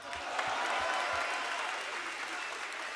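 Crowd applause for a freestyle rapper, a steady, dense wash of clapping that holds at an even level for about three seconds with no breaks.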